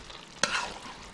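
Eggplant frying in a pan is stirred once, a sharp scrape followed by a short burst of sizzle over a faint background of quiet frying.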